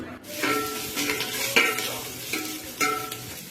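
Cooked rice being stirred into bay leaves and whole garam masala frying in oil for home-style chicken biryani, with soft sizzling under a few distinct scraping strokes of a spoon against the pan.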